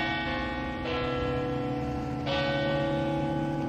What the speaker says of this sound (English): I'm not sure how I would feel about the sound of those bells in that scenario.